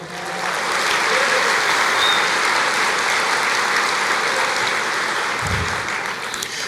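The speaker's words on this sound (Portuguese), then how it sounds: "Você pode aplaudir o Senhor?" A church congregation applauds steadily during a sermon, a dense, even wash of clapping from many hands that holds at full strength throughout with no speech over it.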